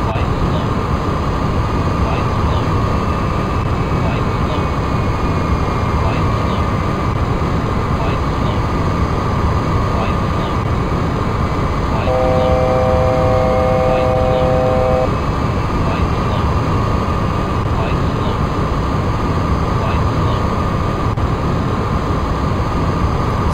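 Boeing 777 airliner in the X-Plane 10 flight simulator, a constant loud broadband engine and wind roar holding steady throughout, with a faint tonal hum layered on top.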